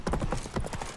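Roach, Geralt's horse in The Witcher 3, galloping with rapid, close, heavy hoofbeats in a quick rolling rhythm for a single second, with a voice faintly mixed in.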